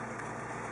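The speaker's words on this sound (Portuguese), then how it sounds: "a marcha lenta está bonitinha, até que tá ali em 800, 850, que é a marcha lenta do tipo mesmo" A Fiat Tipo engine idling at around 800 to 850 rpm, a brief, steady, low hum with no change in pitch.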